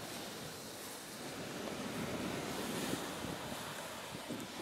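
Ocean surf at Miami Beach, a steady wash of waves mixed with wind noise, moderately distant and continuous with no voices.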